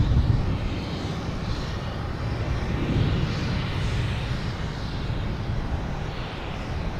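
A JetBlue airliner departs Boston Logan Airport with a loud, broad engine roar that swells and holds steady throughout, no voices over it.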